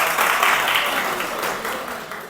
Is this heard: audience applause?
yes